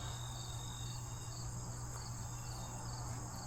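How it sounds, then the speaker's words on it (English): A steady, continuous honey bee buzz hums softly throughout, unbroken and even, with no voices, from a few bees left in a hive's honey supers. "There's still a few bees in here,"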